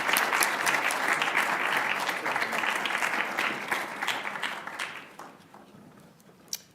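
A university convocation audience applauds to welcome speaker Rory Groves, sustained dense clapping from a large room that gradually thins out and fades over several seconds, ending with a single sharp knock.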